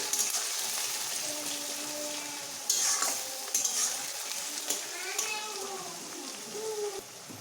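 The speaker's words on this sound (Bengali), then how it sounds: "পেঁয়াজগুলোকে একটু ভালোভাবে ভেজে নিচ্ছি" Salted onions frying in a pan sizzle steadily, with several louder bursts of crackle and scraping as they are stirred, and a voice talks faintly underneath.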